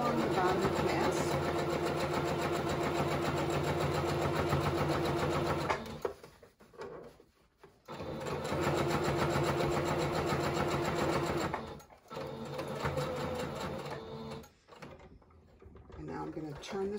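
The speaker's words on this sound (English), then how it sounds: "now I'm just going to sew all along the bottom of the mask." A sewing machine runs in long steady bursts while stitching along the bottom edge of a fabric surgical mask, close and loud, stopping briefly twice between runs.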